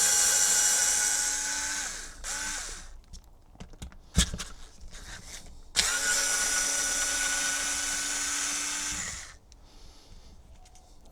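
A power driver whines in long bursts while backing 2.5mm screws out of the front end of an HPI Vorza S truggy. Short stops, clicks and clatter fall between the runs, all close and loud, with no voices.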